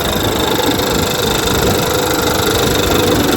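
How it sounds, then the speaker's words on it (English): A vintage Johnson outboard motor idles up close with a loud, steady, even drone and a fine rapid pulsing throughout. "Sweet little motor. Idle's good, runs good, pretty."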